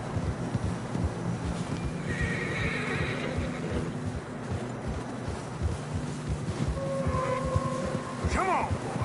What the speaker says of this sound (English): Come on, boy. Horses are struggling.